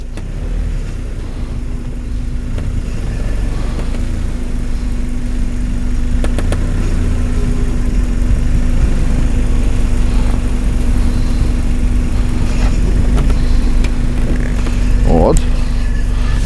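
An ENWIX Standard all-terrain vehicle engine runs steadily while driving off-road, a loud continuous drone with a steady hum that grows slightly louder midway, no talk over it.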